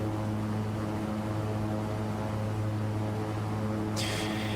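Twin turboprop engines of a King Air 350 air ambulance in the X-Plane 12 flight simulator on approach, a steady loud propeller drone with strong low harmonic hum, continuous throughout, with a brief higher noise burst near the end.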